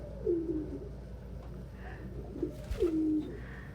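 Pet pigeons coo in a few low, soft, drawn-out calls, two separated bursts over a quiet indoor background with faint rustling.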